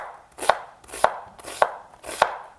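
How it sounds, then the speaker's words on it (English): A kitchen knife dices an onion into small cubes for a sofrito, four evenly spaced chops striking a cutting board, crisp and close with no talking. "We're gonna cube up this onion into nice small pieces."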